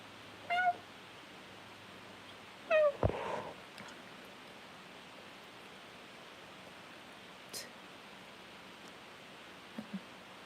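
A cat gives a few short, faint meows over a soft, steady background hiss, with a quiet rustle and long pauses between the calls.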